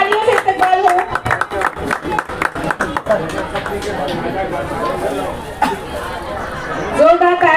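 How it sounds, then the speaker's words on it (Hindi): An audience at a mass wedding ceremony breaks into loud, uneven clapping that thins out into crowd chatter and murmuring. A fresh burst of claps and noise rises near the end. "जोरदार तालियां हो जाए"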